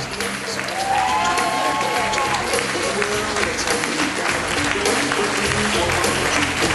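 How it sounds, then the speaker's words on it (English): Wedding guests at Zukas Hilltop applaud the father of the bride's entrance. Loud, steady clapping fills the whole stretch, with crowd noise, scattered cheers and some voices mixed in. "Please keep your applause going for the father of the bride, Damon Jakes, escorted by his wife, Monica."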